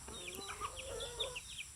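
Hen with three chicks, thin high peeping calls repeating in a loose rhythm over low clucking, near and moderately loud, with no clear talk.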